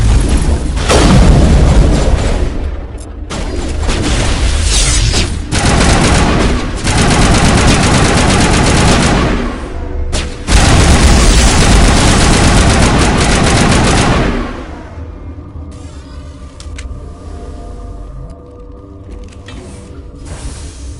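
A sci-fi firefight in Mass Effect, with loud sustained machine-gun bursts, booming explosions and mechanical clatter for most of the stretch, then dropping to a quieter rumbling tail near the end.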